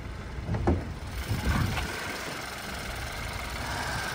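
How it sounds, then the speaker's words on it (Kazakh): A 2023 Hyundai Sonata DN8 with a 1.6 turbo engine idles steadily with a low, even rumble, heard close. A couple of soft thumps come near the start. "Мотору чөттү иштеп турат."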